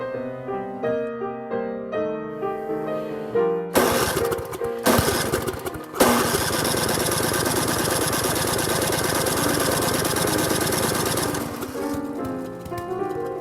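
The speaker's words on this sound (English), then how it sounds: "the internal combustion engine is then connected to a Delco generator" Wood gas–fuelled internal combustion engine driving a Delco battery-charging generator, preceded by a few tonal notes and bursts, then a loud, steady engine drone sustained for several seconds before cutting off near the end.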